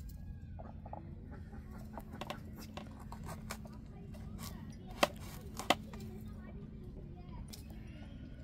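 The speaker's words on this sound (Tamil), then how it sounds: "உரிச்சிட்டு பொடிசு பொடிசாக கட் பண்ணி போட்டுக்கிடுவோம்." Peeled chayote is cut into small pieces with a knife in a home kitchen, giving light, irregular taps and a couple of sharper knocks over a low background hum, with hens clucking and people talking nearby.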